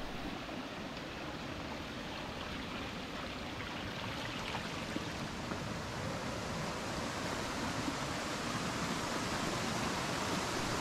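Water rushes steadily in a forest stream near a waterfall, making a continuous, even hiss of flowing water with no pauses and no voices.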